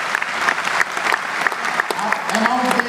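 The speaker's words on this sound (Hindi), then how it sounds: "जोरदार तालियों से स्वागत कीजिए" Steady crowd applause welcoming a speaker named Ruby at a wellness company's second anniversary event, continuous clapping throughout with a few sharper claps standing out and a voice briefly speaking over the end.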